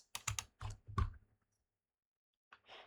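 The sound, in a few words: pressing keys on a computer keyboard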